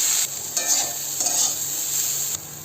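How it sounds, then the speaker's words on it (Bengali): Steady oily sizzling of boiled figs frying in oil in a pan, with a few stirring scrapes, close and continuous with no voices. "এবার ডুমুরগুলো ভেজে নেবো তেলে"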